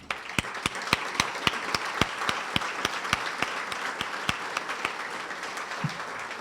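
An audience claps for Education Foundation members at a school district State of the District event. The applause is steady and moderately loud, with sharp, distinct claps standing out over the crowd throughout.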